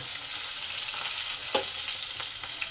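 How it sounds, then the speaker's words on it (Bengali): Cumin seeds and green chillies frying in hot oil give off a steady close sizzle and hiss, with a few sharp crackles and pops spattering through it, and nobody speaks. "জিরে আর লঙ্কাটাকে কয়েক সেকেন্ড ভালো করে ভেজে নেব"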